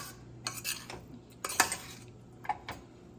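A spoon stirs and mixes cooked rice into a lima bean masala in a metal pot, giving a handful of scattered scraping and clinking strokes at close range with no talk.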